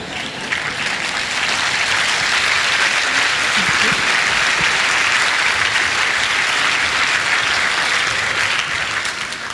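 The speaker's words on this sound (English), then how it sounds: "Applause to Halluc II." A large audience applauds the Halluc II robot after a live demonstration, a dense, loud, steady roar of many hands clapping that holds evenly throughout.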